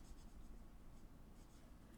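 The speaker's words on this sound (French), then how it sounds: "entendre le bruit de mon feutre sur ma feuille" Felt-tip marker scratches steadily across a sheet of paper while colouring, a soft continuous scraping close to the mic with no talk.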